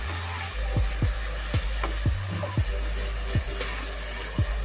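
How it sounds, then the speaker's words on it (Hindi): Onions frying in a pan with a little water added for a fish biryani, giving a steady close sizzle broken by repeated low knocks as they are stirred, with no talking. "उसको अच्छी तरीके से भूनेंगे ताकि प्याज सॉफ्ट हो जाए।"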